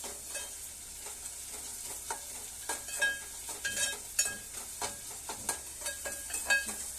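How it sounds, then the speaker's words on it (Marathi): Garlic and ginger paste frying with softened onion in a pan for an amti tempering, giving a steady soft sizzle broken by repeated spoon-scraping stirs, close and fairly quiet with no talking. "आपण याच्यात लसूण आणि आल्याची पेस्ट घालूया आणि व्यवस्थित परतून घेऊया"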